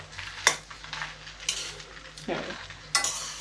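Freshly cooked new rice being turned with a flat spatula in a pan, with four distinct scraping strokes spaced about a second apart over a faint sizzle, close and clear with no talking.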